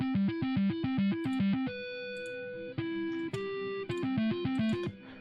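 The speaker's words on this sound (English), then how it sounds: "Which is just, that's actually a bass guitar." Bass guitar, run through an amp emulator, plays a quick pulsing riff of repeated notes that switches to longer sustained notes and then returns to the choppy rhythm. The tone is clean and harmonically rich.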